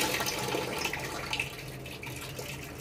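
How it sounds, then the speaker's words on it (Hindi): Water gushes from a hostel tap into a sink, a close, steady rushing splash with slight fluctuations. "यार पानी रुक रुक के आ रहा है"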